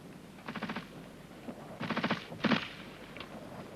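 Bursts of machine gun covering fire in a 1971 military training film on section fire and maneuver, three rapid rattling volleys at moderate distance with short pauses between.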